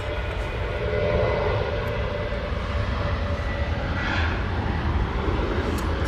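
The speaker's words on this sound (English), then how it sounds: "Jet 2, now on the roll." A Jet2 airliner thunders through its take-off roll at Manchester Airport, a steady, loud, sustained engine roar with a faint whine, heard from a distance with no talk.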